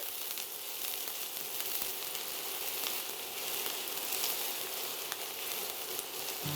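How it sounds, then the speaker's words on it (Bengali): Two tablespoons of onion frying toward brown, a continuous even hiss of hot oil, quiet and close, with no voices or stirring. "টু টেবিল স্পুন পেঁয়াজ এবার এটাকে একটু ব্রাউন করে ভাজতে হবে"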